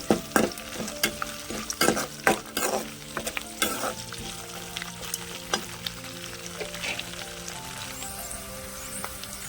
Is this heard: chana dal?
yes